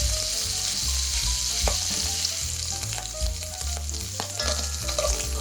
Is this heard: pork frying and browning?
yes